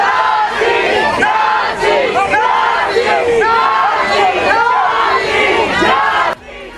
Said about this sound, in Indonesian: Kerumunan massa berkumpul melayangkan protes dengan teriakan slogan menentang imigrasi dan bea cukai ICE Amerika Serikat